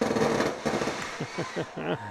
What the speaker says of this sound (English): Impressive fireworks display. Still going off.